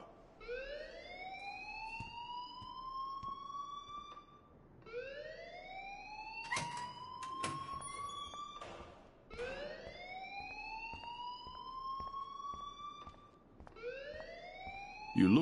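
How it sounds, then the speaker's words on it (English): An alarm in the Life Is Strange video game sounds as a repeating rising electronic whoop, each sweep climbing steadily over a few seconds before restarting, with brief clicks and bursts between cycles, steady and moderately loud with no talking. "please turn off that alarm"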